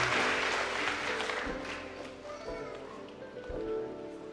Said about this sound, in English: Come on, clap your hands, church.